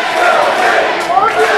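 Arena crowd at a wrestling match between Britt Baker and Katie Arquette, loud and close, a roaring wash of cheering and shouted chants rising and falling over a short burst.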